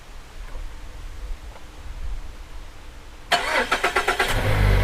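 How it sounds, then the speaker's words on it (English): A Mazda's engine cranks and catches after quiet waiting, triggered by a remote car starter; a quick burst of starter pulses gives way to a steady, close idle. "And it worked. The vehicle started."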